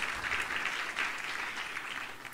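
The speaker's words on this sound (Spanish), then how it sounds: "Un aplauso, por favor, por la exposición científica que tienen afuera." An audience at a university event claps in thanks for a scientific exhibition, a brief, even wash of many hands applauding steadily throughout.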